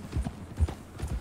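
Horse hooves clip-clop in Red Dead Redemption 2 while herding a large flock of sheep, a few quick irregular strikes close by, moderately loud with no talk over them.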